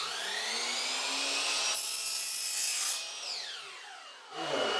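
A machine saw cuts through a Schluter aluminium profile held against its guide, a steady high-pitched grinding whine that rises in pitch, dips briefly, then picks up again at the end.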